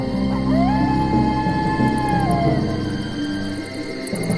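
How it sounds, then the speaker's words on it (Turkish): Wolves howl in a forest at night: long, wavering, rising and falling howls overlap against a dark, droning background, loud and sustained from start to finish. "Ormanda gece yaşayan hayvanların korkunç sesleri yankılanıyormuş."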